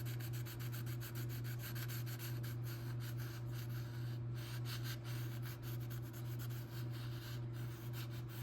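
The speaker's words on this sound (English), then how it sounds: "I'm gonna go ahead and sand right here a little bit." Close rhythmic strokes of sandpaper rub back and forth over a plaster floral intaglio, continuous and even over a steady low electrical hum.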